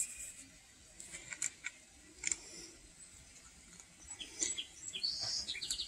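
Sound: white-crowned sparrow singing

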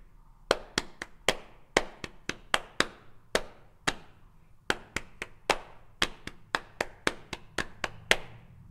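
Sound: hands tapping out a song rhythm

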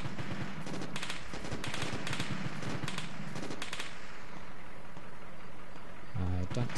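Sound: gunfire in the video game Arma 2

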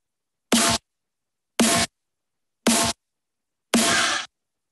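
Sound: snare with soft clipping applied

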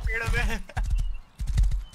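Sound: horse galloping in the video game Rust

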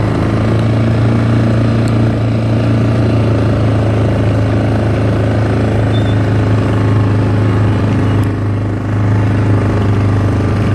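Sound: quad bike engine while riding

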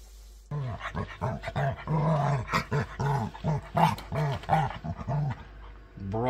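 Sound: dog growling

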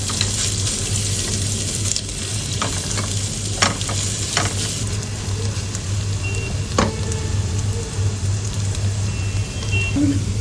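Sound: onions frying in ghee

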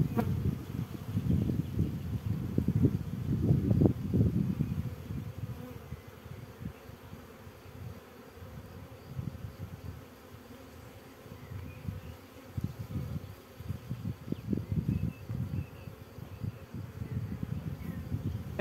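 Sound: honeybee swarm buzzing during hive inspection

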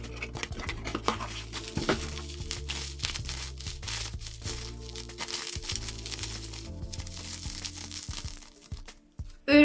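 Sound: opening the product's packaging box

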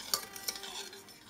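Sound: stirring sugar into milk

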